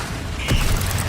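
A Bombarda blasting spell goes off in Hogwarts Legacy, a short bright whoosh followed by a low booming burst at mid-clip, fairly close over a steady rumbling game background.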